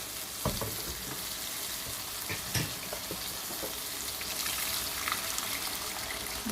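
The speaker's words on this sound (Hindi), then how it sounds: "अब इसमें हम पानी डाल देते हैं।" Water poured into a sizzling chana masala gravy in a hot pan sets off a strong, steady frying hiss with crackles and a few sharp pops, heard close up with no talking.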